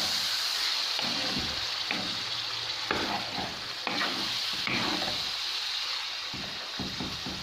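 Chicken liver frying over high heat in oil, with steady loud sizzling broken by repeated scraping stirs of a utensil in the pan, close up and with no talking.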